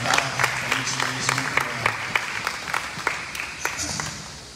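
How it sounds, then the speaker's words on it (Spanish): Church congregation applauding a child's birthday during a Spanish-language service, a steady round of scattered clapping from a modest crowd lasting several seconds. "Démosle un aplauso a Liz, hermano."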